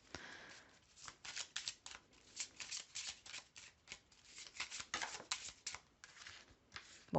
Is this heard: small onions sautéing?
no